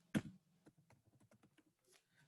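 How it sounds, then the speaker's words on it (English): Quiet, close keystrokes on a computer keyboard, one louder tap followed by a quick run of light clicks, with no talking. "So now I will type my name or any other name."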